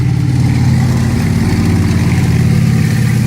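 A World War II-era tank with twin Cadillac engines and M5 high-speed tractor running gear idles at Tankfest in the tank arena, a loud, steady, low rumbling drone that continues without a break.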